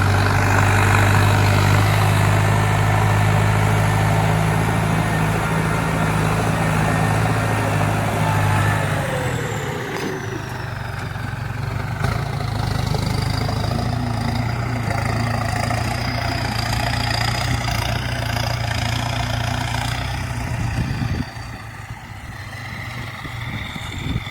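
A heavy tractor engine, a used TS90, runs nearby, loud and rumbling at first, then settles to a quieter, steady idle for the rest.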